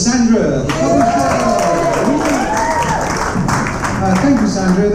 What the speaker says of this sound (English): Round of applause for Sandra, the publisher.